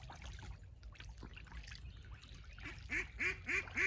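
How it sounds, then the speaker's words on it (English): Ducks quack repeatedly in a rhythmic series near the end, over soft splashing and trickling water close by as they bathe in fresh water. "So the ducks will take their baths. They got new fresh water."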